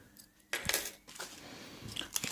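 A small keychain gift pulled from its packaging, with light metallic clinks and rattles in short bursts, close and fairly quiet, with no talking.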